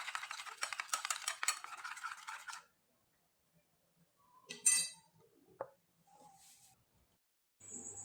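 A spoonful of flour and a little water mixed into a paste in a bowl, with a quick run of clinking, scraping strokes for a few seconds, then near silence broken by a few isolated soft taps and knocks.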